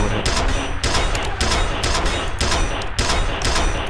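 Rapid gunfire bursts and blasts in the shooter F.E.A.R., steady and loud throughout, with a grenade detonation mixed into the repeated volleys.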